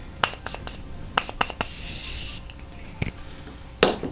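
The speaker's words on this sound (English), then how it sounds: "I'm gonna grab my Morphe setting spray" Short hissy bursts of a makeup setting spray bottle, several quick pumps in a row, close and fairly quiet, with a longer mist burst in the middle.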